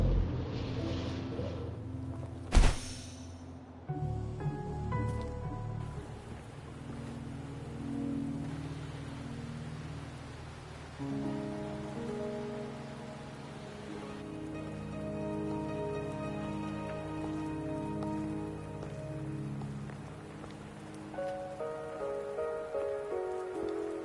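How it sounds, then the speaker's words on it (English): Rain in the video game Wuthering Waves on PS5, a steady patter on surfaces throughout with a sharp crack near the start, under sustained tonal game music and no talking. "Are you trapped here by the rain?"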